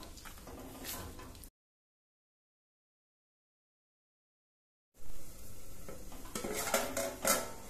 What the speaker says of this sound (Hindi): अब मैं यहाँ मटर डाल रही हूँ। थोड़ी देर के लिए हम मटर भी मसाले के साथ भून लेंगे।